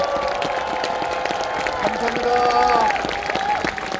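At a political rally in Yeouido, Seoul, a large outdoor crowd claps and cheers in a continuous wash while an amplified voice speaks over it.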